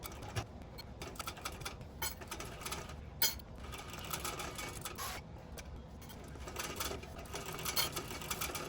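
A sewing machine runs a long joining seam with a 3.5 stitch length on a Windsor bag, a quiet, rapid mechanical ticking and whirring that continues steadily with small bursts, fairly faint and close.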